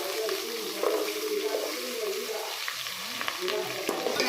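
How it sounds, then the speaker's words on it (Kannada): Finely chopped onions, two of them, sizzle in a pan of hot oil with cumin seeds. A steady, close hiss of frying runs throughout, with light scrapes and clinks of stirring. "ಇಲ್ಲಿ ನಾನು 2 ಆನಿಯನ್ ಸಣ್ಣ ಕಟ್ ಮಾಡಿಕೊಂಡು ಹಾಕ್ಕೊಳ್ತಿದ್ದೀನಿ"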